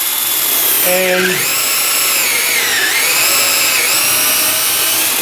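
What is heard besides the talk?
power drill drilling a hole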